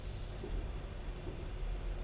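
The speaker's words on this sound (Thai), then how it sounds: "นึกว่าแมลงสาบนี่อะไรอ่ะจักจั่นเนาะ" Cicada buzzing on a ghost-train ride in Thailand, a loud steady high-pitched drone that pulses briefly at the start and then holds as a thin continuous whine over low rumbling background noise.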